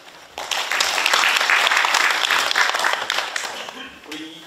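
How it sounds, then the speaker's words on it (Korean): Forum audience applause for a committee chair at a regional peace and unification forum, a strong burst of many hands clapping that fades near the end as a voice begins. "이현우 위원장님께 다시 한번 힘찬 박수 부탁드리겠습니다"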